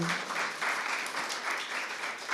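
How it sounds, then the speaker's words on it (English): An audience claps for three presenters at an evening panel discussion, producing a steady wash of dense, fairly even applause throughout with no voices on top. "I'd like you to give them a clap, please."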